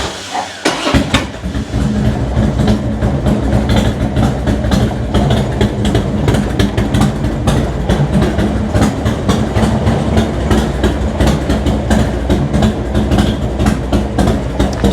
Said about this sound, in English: So let's just fire the bike up one more time, make sure that that works